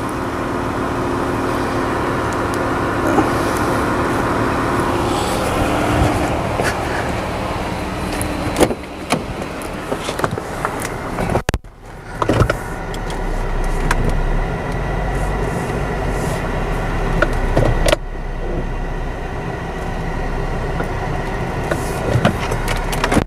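A car rolls over a VastFire zoomable MLOK flashlight outdoors, its engine and tire rumble running steadily, with a few sharp knocks and crunches as the wheel passes over it midway, and no talking.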